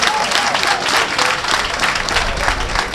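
A crowd applauds loudly at a Benin opposition political rally during legislative elections, dense continuous clapping filling the whole stretch without letup.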